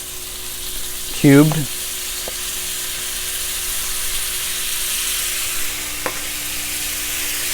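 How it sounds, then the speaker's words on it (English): A stick of butter sizzles in a pan after chicken was cooked and the oil drained, a steady soft hiss throughout with a brief whistling chirp and a short spoken word near the start. "Now I'm going to add some butter, just 1 stick of butter"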